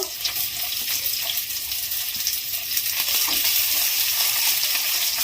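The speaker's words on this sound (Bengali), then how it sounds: "এবারে সমস্ত সবজিগুলো আমি ভেজে নেব। তো প্রথমে দিয়ে দিচ্ছি রসুন কুচো, দিয়ে দিচ্ছি পেঁয়াজ কুচো," Chopped garlic and onion fry in a pan at the start of a chicken pasta. A close, steady, fairly loud sizzle runs with light stirring, and no one speaks.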